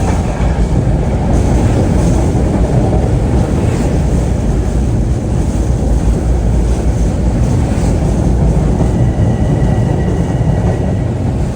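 A Metro-North M3 commuter train passes through Harlem 125th Street station on a freezing night, giving a loud, steady, continuous rumble and roar close by with no voices over it.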